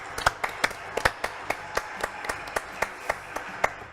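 A small studio audience on a French television show claps in a loose, fairly even rhythm of distinct hand claps, moderately close but not loud, continuing steadily for a few seconds.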